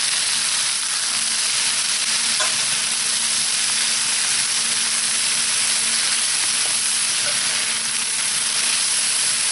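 Brussels sprouts and bacon fry in a pan, a loud continuous sizzle and hiss close up, even throughout with faint occasional clinks.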